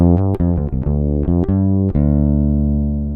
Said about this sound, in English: this is just the plain sound of the bass